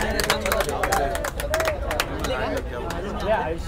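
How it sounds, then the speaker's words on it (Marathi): Applause for the runner-up team at a prize ceremony, scattered hand claps over crowd murmur and nearby talking voices, irregular and moderately loud throughout. "जोरदार टाळ्या वाजवून द्या होती."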